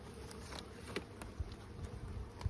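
Honey bees buzz at an open hive while frames are pulled during a honey harvest, a faint, steady hum with a few soft knocks and shuffles close by.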